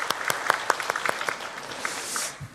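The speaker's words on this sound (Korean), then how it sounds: "다시 한번 박수로 환영해 주시겠습니다." Applause from a church congregation during a Sunday service, a scattered patter of hand claps that trails off over a couple of seconds, moderately distant and fading toward the end.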